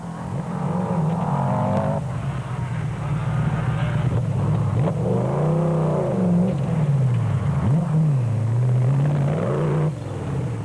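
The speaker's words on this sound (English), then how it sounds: "The De Bruyn's Toyota Hilux was sounding ready for action" The engine of a Toyota Hilux rally truck at the Limpopo 400 rally rumbles loudly and steadily, rising and falling through several revving swells, close and continuous, with no talk.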